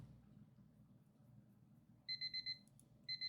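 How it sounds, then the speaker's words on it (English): Alarm clock ringing in Tennis Ace: a quiet room hum, then two bursts of rapid, loud, evenly spaced electronic beeps, four in the first group and a second group starting after a short gap. "Stupid alarm."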